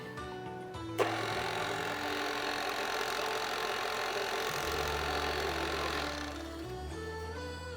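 An electric mixer runs through chocolate chip cookie dough after baking powder is added, a steady whirring motor drone that kicks on abruptly, holds evenly, then slows and drops in pitch near the end.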